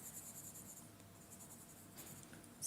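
A B or 2B graphite pencil shades steadily on paper, a faint, close, continuous scratchy hiss with no talking.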